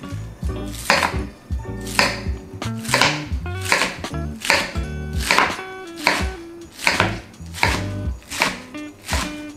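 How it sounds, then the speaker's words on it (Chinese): Rhythmic knife chops on a cutting board, steady and close, about one stroke per second as napa cabbage is shredded into slightly wide strips, with no talking. "大白菜切丝，也不用太细的丝，就是有一点点宽度。"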